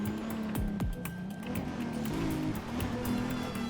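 A McLaren P1 supercar pulls away in GTA 5, its steady engine drone sweeping in pitch with a couple of quick gear-change swoops near the start, heard alone without talk.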